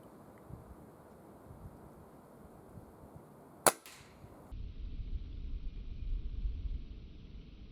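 A single sharp rifle gunshot fired through a captured enemy sniper scope cracks out loud and close amid outdoor wind noise, followed by a brief echo and then steady low wind rumble.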